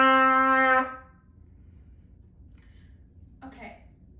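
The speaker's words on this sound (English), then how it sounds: "D. That is valve number 1 and valve number 3." A trumpet sounds one sustained D fingered with valves 1 and 3, bright and harmonic-rich, close and fairly loud for under a second, then cuts off into quiet room noise with a faint brief sound near the end.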